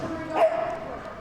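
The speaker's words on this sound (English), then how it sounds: "Barks his way around the course." A blue merle dog barks while running a Crufts agility course at a large indoor competition, giving one short, close bark over a busy arena background with a commentator talking.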